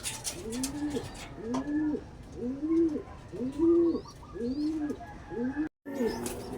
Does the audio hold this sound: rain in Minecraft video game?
no